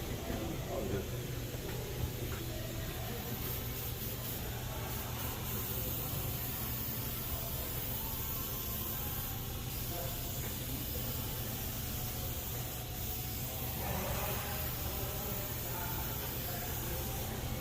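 A long, continuous spray of aerosol gasket remover onto a Dana M275 rear differential cover on a 2017-or-later Ford Super Duty hisses steadily for many seconds, with brief pauses and a low background hum.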